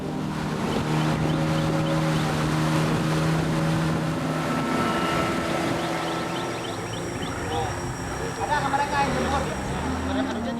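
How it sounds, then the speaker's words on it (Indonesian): A motorboat with a 15 PK outboard engine runs along a river in West Kalimantan, making a steady, loud drone with wind buffeting the microphone. A voice talks over the engine throughout. "hanya bisa ditempuh dengan menggunakan perahu motor tempel berkekuatan"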